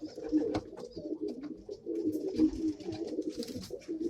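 Pigeons coo softly and continuously inside a loft coop, a low, layered murmur of overlapping calls with faint rustles and flutters nearby and no talking.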